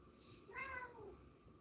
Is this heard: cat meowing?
yes